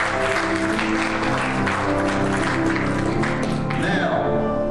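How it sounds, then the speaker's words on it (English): A church congregation claps hands in praise during a worship service, a steady dense wash of clapping that fills the space, with a sustained musical tone running underneath. "Give the Lord a hand clap of praise."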